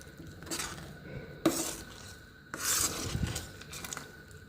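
Spoon scraping and clinking against a pan as rava halwa with ghee and cardamom is moved onto a plate, a few distinct metallic knocks separated by softer scraping, close and fairly quiet with no talk.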